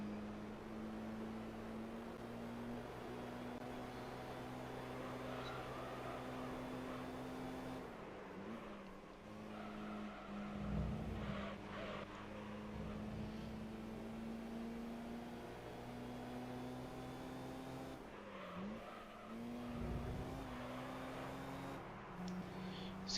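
A turbocharged race car engine in the video game Gran Turismo 3 drones continuously at a steady pitch, briefly dipping twice as gears shift before settling back into the same sustained hum, with no talking.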